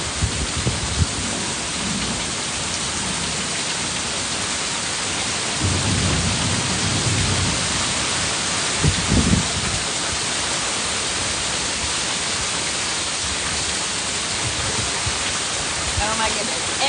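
Heavy rain pours steadily during a thunderstorm in Texas flooding, a dense constant wash with low rumbles of thunder swelling around the middle, close and loud throughout.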